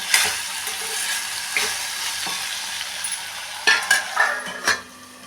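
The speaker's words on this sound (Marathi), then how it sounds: "चवीपुरतं मीठ टाकून घेऊया आणि थोडा वेळ परतून" Guava pieces sauté with salt in a pan, giving a continuous close sizzle with occasional scraping and clinking stirs of a utensil against the pan.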